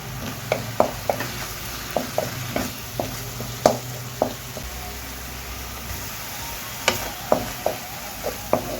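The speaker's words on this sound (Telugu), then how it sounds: "ఇప్పుడు ఇది బాగా వేగాలండి. ఇందులో కొంచెం కారం, పసుపు వేసుకుందాము." Tomato puree frying in a pan with chili powder and turmeric, stirred by hand: a close run of sharp spoon taps and scrapes, some in quick pairs, over a low steady sizzle and hum.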